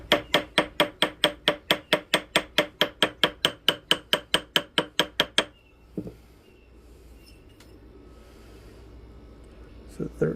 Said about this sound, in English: I'm going to take our ball peen hammer here for a second.